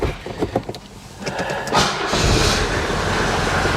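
A 1983 Mercedes-Benz 240D diesel starts up indoors in a garage: a few uneven cranking bursts, then it catches and settles into a steady, loud idle.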